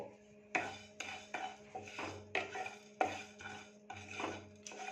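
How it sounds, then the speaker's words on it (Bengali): Whole cumin, coriander, fennel and carom seeds dry roasting in a pan over low heat, a series of sharp metallic clinks and scrapes from a spoon at a slow, uneven rhythm, close and fairly quiet. "গোটা মৌরি আর জোয়ানটাকে একসাথে একটু ড্রাই রোস্ট করে নেব।"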